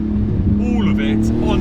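Porsche 911 GT2 RS accelerating hard, a brief loud engine surge with rising pitch heard from inside the cabin, mixed with a voice talking over it.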